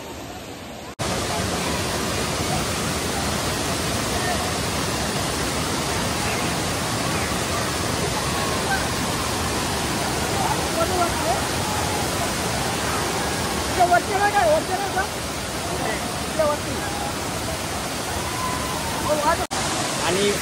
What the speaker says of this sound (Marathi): आणि फायनली मी पोहोचलोच आहे धबधब्यावर